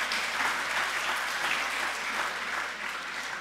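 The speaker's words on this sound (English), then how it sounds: "Let's give a clap offering to God for that." A church congregation gives a clap offering, a dense, steady wash of applause that stays loud and even throughout with no talk over it.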